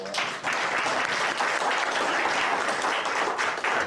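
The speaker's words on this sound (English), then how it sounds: "Let's give a round of applause now for" An audience at a panel discussion applauds steadily, a dense, even wash of many hands clapping at close range with no voices over it.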